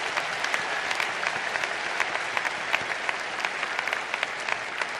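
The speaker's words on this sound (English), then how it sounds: "So let's give him another round of applause." A commencement audience applauds the speaker in a dense, sustained roar of many hands clapping, with sharper individual claps popping out of the steady wash.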